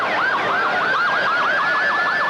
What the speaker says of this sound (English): the motorcade with sirens blazing finally pulled into view